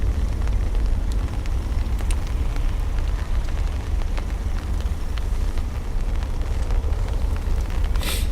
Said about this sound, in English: I didn't take it out because it's raining.